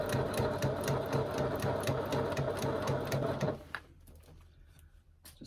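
A sewing machine runs a steady, fast, rhythmic stitch around the top edge of a fabric bag, then stops abruptly partway through, leaving a quiet tail with a faint click.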